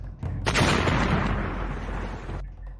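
An explosion sound effect in a Thai-narrated James Bond audiobook, where a magnetic device blows up against a rock wall beneath a Lotus car, a loud booming blast that swells and then cuts off.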